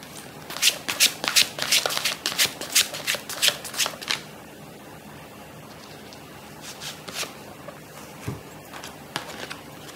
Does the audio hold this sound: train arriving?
no